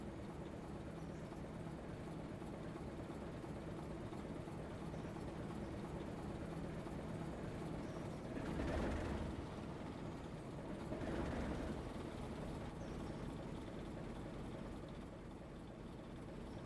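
A 10-wheeler steam locomotive in Railroader rumbles along at low volume, a steady distant train drone with two brief louder surges partway through.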